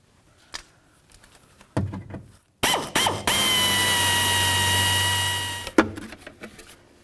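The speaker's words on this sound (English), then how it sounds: "of course we're going to have to drill those out" A power drill bores out the rivets holding a speaker in the door of a 1994-2004 Chevy S-10. A few short tool clicks and brief bursts come first, then a sustained whining drill run of about three seconds, close by.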